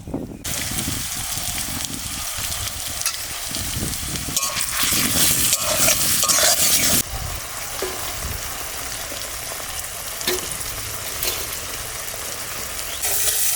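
Spice masala with Kashmiri chilli powder is sautéed in fish oil for a rupchanda fish curry. A loud, dense sizzle carries throughout, with stirring scrapes and a fierce surge of hiss in the middle.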